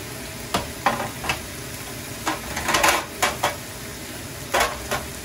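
Ribeye steaks frying in a pan beside onions, a press set down on them; a constant sizzle runs throughout with several sharp clanks and scrapes of metal on the pan, close and fairly loud.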